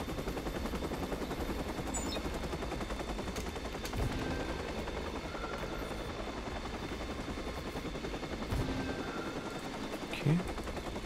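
Helicopter hovering in the video game Watch Dogs, a steady rotor drone with brief bursts of gunfire over the top, no speech heard.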